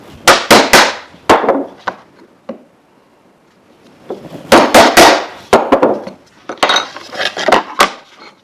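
A chisel struck with a mallet chops waste wood from a half-blind dovetail joint, sounding as bursts of sharp, close knocks in quick clusters separated by short pauses.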